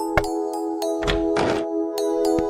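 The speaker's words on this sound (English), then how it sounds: "She knocked on the door because she was tired and wanted to rest a little." Several dull knocks and thunks sound on a small cottage door in a fairy-tale story, spaced irregularly over a sustained musical background.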